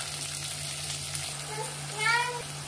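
Vegetables and onion leaves fry and are stirred in a pan for idli upma, making a moderate, continuous sizzle with a faint scrape of stirring partway through.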